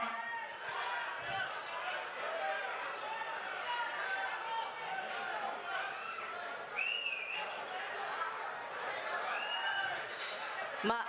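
A crowd at a film pre-release event for Kannappa keeps up a steady roar of cheering, shouting and whistles from a large audience, continuous and dense throughout, with a voice speaking over it.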